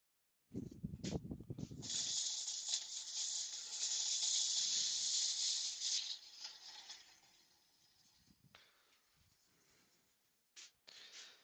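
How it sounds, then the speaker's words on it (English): Abrasive sanding on a woodturned piece spinning on a lathe, a steady loud hiss lasting several seconds after a brief low rumble, then fading to a softer scratchy rasp with short bursts near the end. "So we're going to sand that, and then we'll get a nice finish on that"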